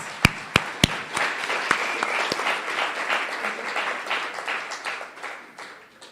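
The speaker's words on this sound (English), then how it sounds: "Let's give them one more round of applause." An audience applauds a band at a live-streamed gathering, opening with several loud single claps up close before a fuller round of clapping swells and slowly fades.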